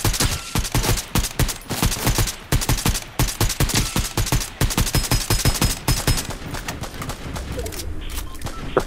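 Rapid, loud automatic gunfire rattles in the video game Fortnite as near bursts of closely spaced shots with brief gaps, thinning out toward the end.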